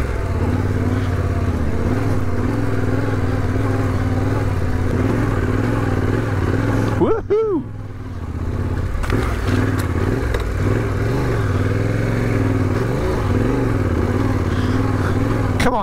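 A Tenere motorcycle rides off-road through desert mud in Spain, its engine droning steadily and loud up close. It cuts out briefly partway through, then the revving and rough running pick up again.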